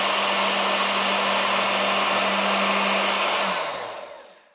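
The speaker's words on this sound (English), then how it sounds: "I'm going to use my router to make a hole in that as a reference point" A handheld router whines loudly and steadily while cutting a hole in a sheet of hardboard, then spins down and fades away at the end.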